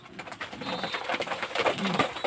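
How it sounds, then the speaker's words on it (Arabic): Large Roman pigeons with feathered feet coo nearby in a loft, with a steady stream of soft, throaty coos and rustling that keeps going without pause. "ده الحمام الروماني"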